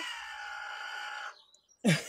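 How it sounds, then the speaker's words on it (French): An unhappy hen gives a drawn-out, strained squawking call up close, then goes quiet. After a brief silence it breaks into a sudden sharp cluck. "La poule, elle n'est pas contente là."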